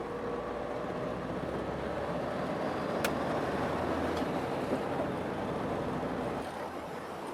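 A 1975 BMW 2002 is driven, heard from inside as a steady, loud engine and road drone that runs continuously with a brief click midway and no talking.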